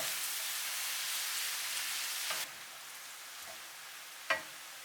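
Vegetables frying and sizzling in a hot pan while cooking yakisoba, a steady hiss with a couple of brief clinks or stirs, fairly quiet and with no talk.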